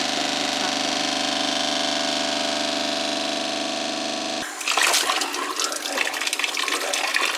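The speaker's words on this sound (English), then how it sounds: "If you just want to turn the water on" Water switched on and rushing through narrowboat plumbing, starting abruptly after a steady mechanical hum, then a loud, close, irregular gushing and spluttering hiss.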